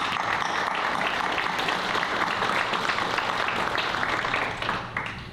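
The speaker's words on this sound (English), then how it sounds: "how about a big round of applause for your parents who we are here today" Steady audience applause for students' parents at a high school National Honor Society induction ceremony, full and even before tapering off near the end.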